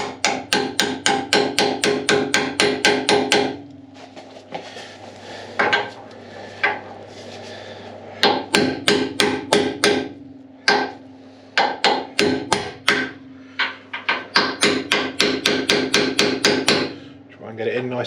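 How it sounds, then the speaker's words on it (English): A slightly smaller socket is hammered in to press a part while a custom front suspension is fabricated for a beach buggy. Loud, sharp metallic blows land in rapid bursts, with short pauses between the runs. "Then she goes in there. And this socket's just slightly smaller in the diameter."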